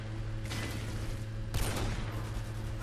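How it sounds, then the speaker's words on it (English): Video game gunfire sprayed blindly into a smoke cloud, two bursts of rapid shots over a constant low hum, heard at moderate distance without any talking. "I love just blind shooting into smoke."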